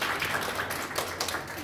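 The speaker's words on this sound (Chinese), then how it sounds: "刘艺术家，掌声欢迎。" Brief, steady applause from a crowd welcoming an artist at an art exhibition opening in Yilan, with even, moderately distant clapping throughout.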